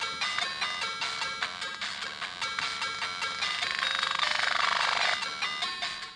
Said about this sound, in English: both the 48K beeper and the 128K AY chip worked great